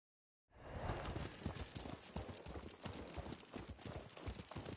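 Horse hooves trot steadily in Ghost of Tsushima, a dense, continuous clip-clop that starts abruptly after a moment of silence and stays close and loud throughout, with no talking over it.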